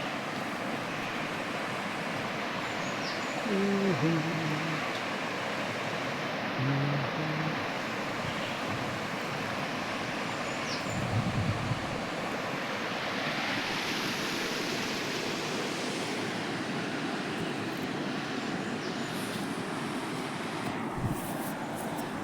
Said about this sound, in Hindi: नदी है, ये ऊपर से आ रही है देखो